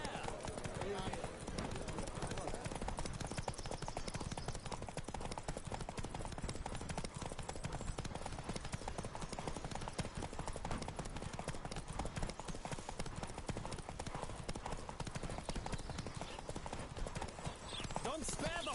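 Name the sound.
horse galloping hooves, The Witcher 3: Wild Hunt video game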